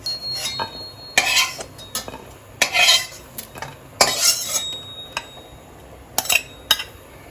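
A utensil stirs and scrapes garlic and green chillies frying in a metal pan, with irregular bursts of clanking and scraping over a faint sizzle and no talking.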